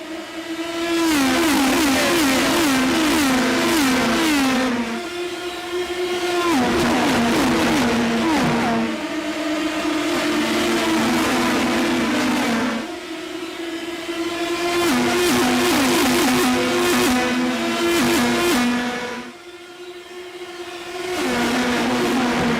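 Indy Pro 2000 open-wheel race cars on the Gateway oval in the iRacing simulator roar past in a pack, engines revving and shifting up in repeated loud surges that fade and return every few seconds, with no voices.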